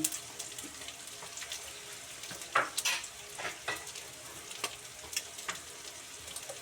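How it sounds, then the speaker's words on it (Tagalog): Onions frying in a pan for a canned mackerel curry, a steady faint sizzle with a few louder scraping stirs near the middle and scattered spatula clicks, with no voices. "Kaunting prito-prito lang. Ang tagal eh. Nasusunog na yung aking sibuyas."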